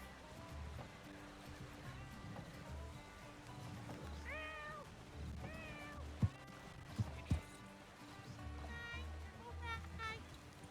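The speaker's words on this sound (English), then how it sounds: "Very strange cat noise" An odd, warbling cat meow in the Western roleplay game WildRP sounds a few times, rising and falling, over quiet ambient game sounds while people talk.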